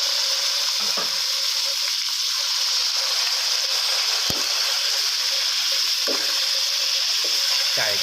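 Chicken sizzles steadily and loudly as it stir-fries in a hot pan, with occasional scrapes and clinks of a spatula stirring it, up close and without speech.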